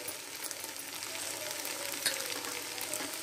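Fish curry base of onions with salt and turmeric sautéing in a pan for okra fish curry, a steady close sizzle and frying hiss throughout with faint stirring scrapes.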